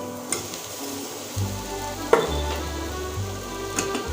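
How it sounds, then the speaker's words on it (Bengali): Mashed potato fries with spices in a pan for aloo chop, a soft steady sizzle with occasional spatula scrapes and stirring knocks close by, no talking. "এবার সুন্দরভাবে আলুটা ভাজতে থাকি"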